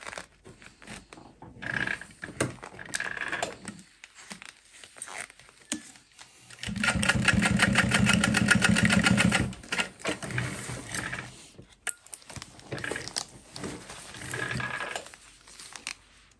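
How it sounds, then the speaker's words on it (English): A sewing machine stitches a seam across a backpack being made. A steady, rapid whir runs for about three seconds in the middle, with scattered handling clicks and rustles of fabric before and after. "just sew a line of stitching down across that"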